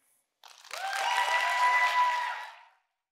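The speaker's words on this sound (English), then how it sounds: "Another round of applause for Charles" Audience applause follows a talk at a university lecture event, a dense burst of clapping that swells quickly, holds for about two seconds and then fades out.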